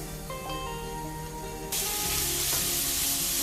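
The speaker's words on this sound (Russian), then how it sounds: "Отправляю на сковороду лук, морковку," Onion and carrot hit hot oil in a frying pan with a sudden loud burst of sizzling that stays steady and close, with faint clinks and scraping beneath.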